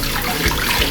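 Strong, steady rush of running water from a tap, used for rinsing intestines in preparation for Batangas goto, close and loud throughout a brief moment.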